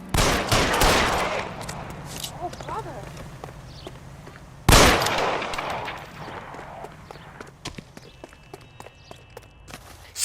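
Gunshots in the video game L.A. Noire: two loud, sharp cracks about four seconds apart, each trailing into echoing decay, followed by scattered light taps and footstep-like clicks.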